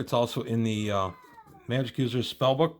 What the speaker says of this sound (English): That's my cat Caesar deciding he wants to be heard.